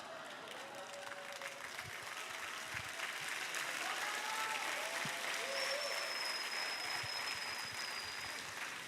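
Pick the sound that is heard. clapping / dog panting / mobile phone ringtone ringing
clapping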